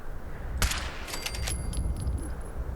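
Gunshots in Fallout 4 on the Nuka World add-on: one sharp crack followed about half a second later by a cluster of quick reports trailing into thin ringing tones, over a low steady background hum.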